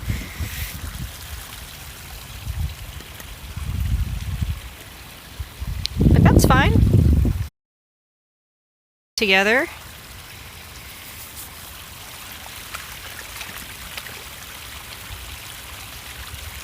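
A creek's water runs steadily over rocks, a continuous wash that swells louder for a moment and then settles back, with someone talking over it.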